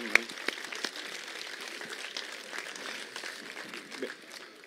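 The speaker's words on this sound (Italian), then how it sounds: "Io faccio ancora un grande applauso personale insieme a voi al candidato sindaco Maurizio Croce." Scattered, fairly thin applause from a crowd at an Italian political rally in Messina for mayoral candidate Maurizio Croce, patchy claps continuing with a voice talking over them.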